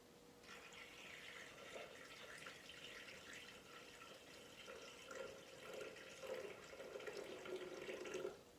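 Water, 500 grams of it, is poured into a Thermomix bowl in a steady, quiet, continuous splashing stream that swells slightly toward the end, heard close with no talk.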